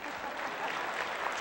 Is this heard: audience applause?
yes